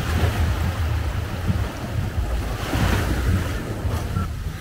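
Ocean waves wash onto a beach at night in Boracay, a continuous rumbling surf with swelling surges, close and loud, mixed with gusty wind buffeting the microphone.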